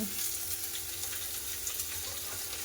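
Prawns frying with sliced onions and green chilli in a pan, a steady, dense hiss of sizzling oil running throughout at moderate level, with no voices.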